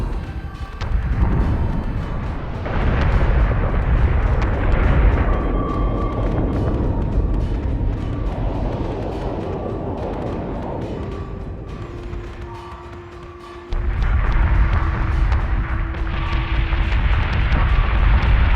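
Warship battle in the space combat game Battlestar Galactica Deadlock: dense, rumbling gunfire and heavy explosions roll continuously, loud and booming, with a sudden renewed surge of blasts near the end and no talk over it.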